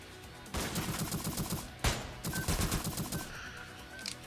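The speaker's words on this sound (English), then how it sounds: "That would be a flashbang." A flashbang grenade goes off in the video game Entry Point: one sharp, loud bang sits between bursts of rapid gunfire that rattle on either side of it.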